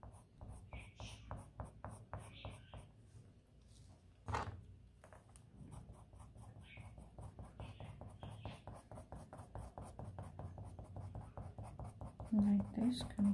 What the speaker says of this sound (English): complete the shading with the pencil and the black color pencils